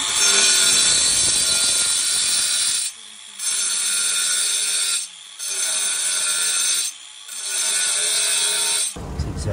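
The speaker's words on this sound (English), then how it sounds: "So I've ground that out and then cleaned it up with the grinder, so it's nice and flat." An angle grinder cuts a slot into a roof tile, a loud, high, close whine in several long passes broken by short pauses where the motor drops off.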